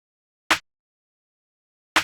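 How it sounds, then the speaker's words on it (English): Layered rim and snare samples from a hip-hop beat made in FL Studio strike together twice, each a sharp, full, bright crack with a quick decay, separated by silence. "It is a rim and also a snare."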